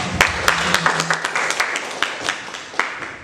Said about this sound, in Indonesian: Diseminasi yang luar biasa, mari kita berikan aplaus